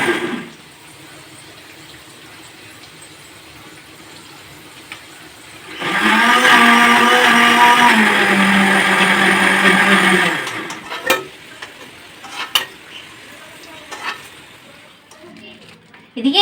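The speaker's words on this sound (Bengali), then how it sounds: "মশলা গুঁড়ো করে নিচ্ছি" An electric grinder pulverises spices and dried chillies in a kitchen with a loud, whirring motor whine that runs for about four seconds and then stops. Quieter household noise comes before and after it, and people talk nearby.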